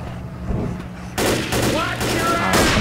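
Rapid gunfire from a gun in Left 4 Dead, a burst of sharp shots that starts after a quieter second and continues densely to the end, with a voice faintly underneath.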